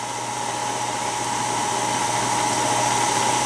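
A meat grinder runs steadily, grinding bacon end pieces, a loud continuous motor whir with a constant hum that holds throughout, with no talking.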